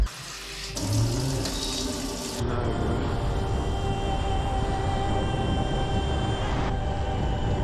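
Water runs from a tap into two bottles during a village stop on a bikepacking trip, a steady close hiss and splash that keeps going with little change.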